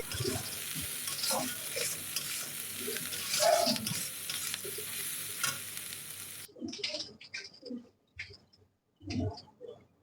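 Mixed fried rice ingredients sizzle and get stirred in a pan with salt added, a steady frying hiss for the first six seconds, then fading to sparse scrapes and clatters as the food is taken off the heat.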